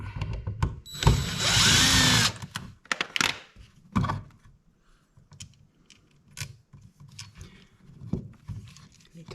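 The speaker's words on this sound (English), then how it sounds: "Loosen the screws on the outlet." A power driver loosening the screws on a household electrical outlet, with a short burst of whirring followed by scattered clicks, taps and handling noises close by.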